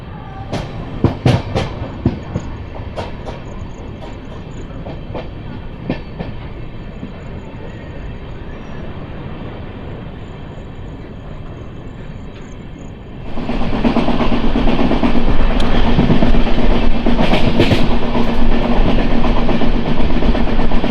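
Chennai–Charlapalli superfast express pulling out of Ongole station, a loud, close rumble with rhythmic clicks of wheels over rail joints that swells into a fuller roar as the train gathers speed, no talking.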